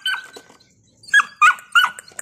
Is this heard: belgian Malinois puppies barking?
yes